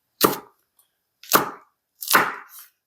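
Three separate close knife chops through red and green chili peppers on a cutting board, sharp thuds spaced about a second apart with silence in between.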